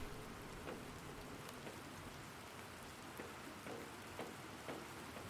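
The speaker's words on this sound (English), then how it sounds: "I can hear the rain outside." Steady rain falling outside in the video game Planet Crafter, a continuous soft hiss with faint scattered drops tapping on surfaces, quiet and even throughout.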